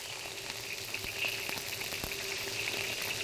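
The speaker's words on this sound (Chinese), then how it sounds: "等它慢慢的熬制，熬干，熬出香味。" Cinnamon, bay leaf, star anise, fennel, cao guo and Sichuan pepper simmer in oil for chili oil, making a steady close sizzle with scattered small pops and crackles that swells slightly midway.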